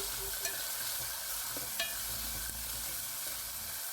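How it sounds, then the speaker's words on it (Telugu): Onions, green chillies and curry leaves fry in hot oil for a broad beans curry, a steady close sizzle with a few sharp utensil scrapes and clicks of stirring, no voices. "onions and chillies curry leaves వేయండి వేసి ఒక ఫైవ్ మినిట్స్ పాటు వేయించుకోండి"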